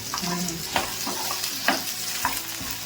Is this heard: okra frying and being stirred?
yes